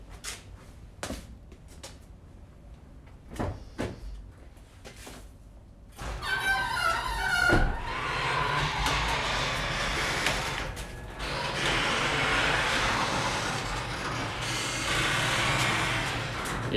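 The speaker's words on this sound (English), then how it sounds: "my garage door opening up" Sharp clicks and knocks come first in a garage, then a garage door opens with a rattling mechanical clatter that turns into a long, steady rumbling roll, and no one talks.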